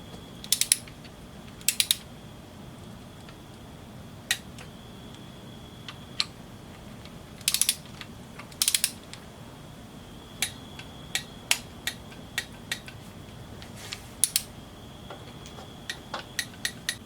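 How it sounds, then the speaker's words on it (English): A ratchet wrench torquing bolts on a 6.0 LS engine bottom end: sparse sharp clicks in short bursts spaced across the clip, close and crisp over a low steady room hum, with no speech. "So I'm going to go ahead and do what GM says, is do 15 foot-pounds, and then I'll crank it up to 40 after that"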